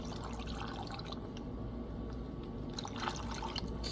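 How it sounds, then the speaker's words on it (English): Apple cider poured for poison apple shots, a soft continuous trickle of liquid with faint splashy bursts near the start and end, close and quiet, no talking. "we're gonna start with 2 ounces of apple cider"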